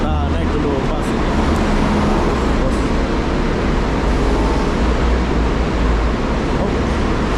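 Steady rumble of road traffic and a bus at Kuala Lumpur airport (KLIA 1), loud and continuous with a low engine drone throughout, no clear speech.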